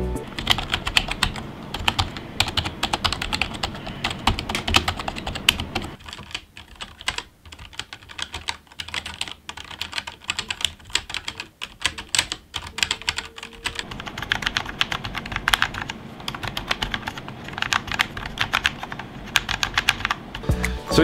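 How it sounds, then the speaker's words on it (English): Rapid clattering keystrokes on a Cooler Master SK630 mechanical keyboard, compared with a membrane keyboard and a hybrid MS110, steady and close, with a noticeably softer stretch of typing in the middle. "So here's the sound test compared to the membrane keyboard and obviously the hybrid"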